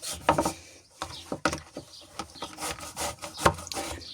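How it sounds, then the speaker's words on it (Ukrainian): Fresh zucchini rubbed over a fine kitchen grater, giving a close series of quick, rough rasping strokes in an irregular rhythm, with no talking. "Беремо наш кабачок, натираємо на мілкій тертуці."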